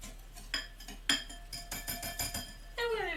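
Batter with melted butter mixed by hand in a bowl for maple squash gems: a steady run of bright clinks and taps from a utensil striking the bowl, fairly close, with a smoother swirl at the end.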